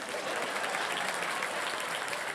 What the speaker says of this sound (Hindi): ताली बजते रहे उनके लिए।